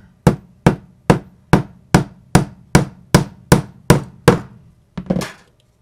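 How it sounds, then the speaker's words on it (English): Eleven sharp hammer blows ring out at a steady, even pace, loud and close, followed by a final pair of quicker knocks, while building a teardrop trailer birdhouse. "And then you just hammer it right on there."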